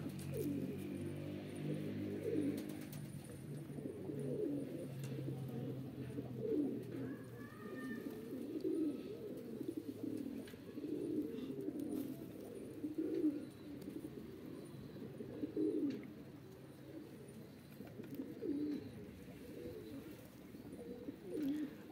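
Van pigeons cooing steadily in low, throaty rolls, several birds overlapping at close range with a brief higher chirp partway through, no talk.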